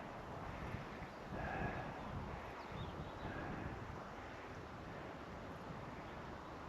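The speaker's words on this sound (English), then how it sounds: "we've got wind blowing in, so cut the power" Steady wind blows across an open flying field during a model glider flight, a constant rushing buffet on the microphone with no voices, holding level from start to finish.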